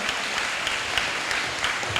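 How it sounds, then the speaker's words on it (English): A crowd at a school STEAM fair gives steady, even applause, a dense wash of clapping that lasts the whole short clip. "give yourselves a hand of applause"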